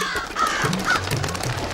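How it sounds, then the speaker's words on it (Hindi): A few crows caw from a rooftop parapet, with two short separate calls standing out over a dense, even background hum. "14 कौवे चंदू की चाची के छत के मुंडेर पर।"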